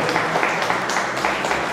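An audience at a talk on huaycos in Chosica claps together in a dense, steady burst of applause, loud and close, with no voices over it.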